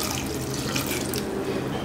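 Water runs steadily into a cooking pot, about two glasses' worth added to a kuzhambu being prepared for the pressure cooker, a close, continuous pouring and splashing with no voices.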